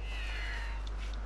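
A bird in the video game The Legend of Zelda: Skyward Sword gives a short raspy call over a steady low hum, fairly faint and heard without speech.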